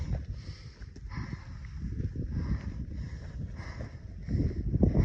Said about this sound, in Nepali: एकदम हावा चलिरहेको छ है।